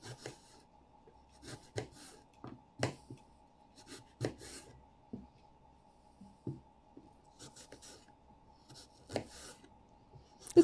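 A knife cuts thin slices from an apple, making soft, irregular cuts and taps against a board at close range in an otherwise quiet room.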